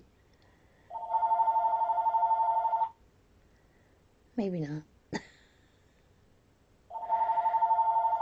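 A landline telephone rings indoors in two long electronic trills separated by a pause, fairly close and clear, with a brief spoken phrase and a throat sound in the gap between rings.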